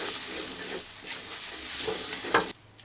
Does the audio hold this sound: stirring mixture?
yes